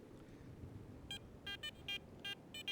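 A metal detector on a beach gives a run of short electronic signal beeps, about eight quick tones in bursts over a soft background hiss, fairly faint and with no talking.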